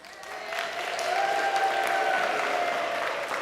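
A congregation at a winter solstice pageant worship service claps and cheers, the applause swelling in after a quiet start and holding steady at moderate volume, with a sustained musical tone running beneath.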